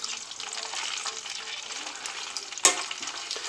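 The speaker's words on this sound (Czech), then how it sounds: "když vidíš, že se to smaží, tak to musíš promíchat." French fries sizzle steadily in hot oil while being stirred with a fork, a soft continuous frying hiss broken by one sharp clink of metal near the end.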